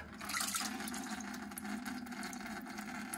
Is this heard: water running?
yes